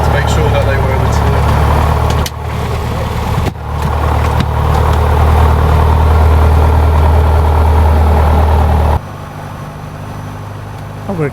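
A Piper Cherokee's engine idles at Halfpenny Green Airfield: a loud, steady, close-up drone with strong low throb, briefly dipping twice and dropping to a quieter hum near the end.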